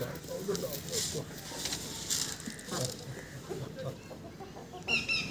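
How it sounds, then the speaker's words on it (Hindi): A black hen clucks near and low while being fed by hand alongside other chickens, with short bursts of clucking and scratchy movement beneath scattered background chatter and a sharper call near the end. "ये काली मुर्गी भी खाना चाहती है आपके हाथ से"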